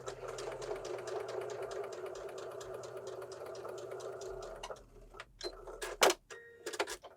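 A sewing machine stitches quilt block strips in a steady, fast mechanical run of needle strokes that lasts several seconds, then stops and gives way to quieter handling clicks and brief bumps near the end.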